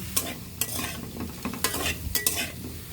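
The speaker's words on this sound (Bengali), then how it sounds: "এখন আমরা ভেজে নিব" Spring onions fry in a pan, with close scraping stir strokes over a steady sizzle for a few seconds and no voices.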